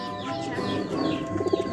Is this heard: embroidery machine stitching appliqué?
no